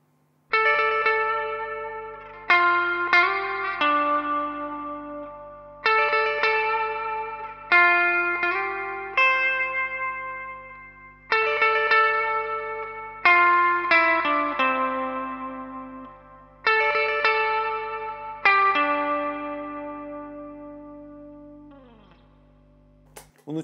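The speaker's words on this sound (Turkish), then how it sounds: "Şimdi amfiden reverb'ı açalım" An electric guitar played through an amplifier with reverb switched on picks out a slow twangy melody in repeated phrases, each note ringing out and decaying into a long reverberant tail, with no talking.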